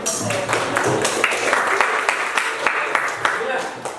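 Applause from an Indonesian audience for the first group of performers, a dense patter of many hands clapping steadily for several seconds with scattered louder claps, mixed with voices.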